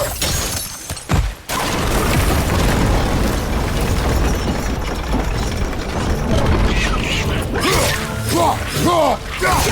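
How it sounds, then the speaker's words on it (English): A loud, sustained blast and rumbling roar from an explosion in God of War Ragnarok, filling nearly ten seconds with dense crackling debris and mechanical grinding, ending in scattered cracks and pops. "It's gonna explode!"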